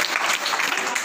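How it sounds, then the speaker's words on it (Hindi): Dense, steady applause from a group of schoolchildren or villagers at a flood-safety awareness session, filling the short moment with continuous close clapping and no speech. "बहुत अच्छा, ताली हो जाए"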